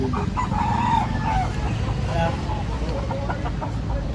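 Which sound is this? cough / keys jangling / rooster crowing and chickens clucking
rooster crowing and chickens clucking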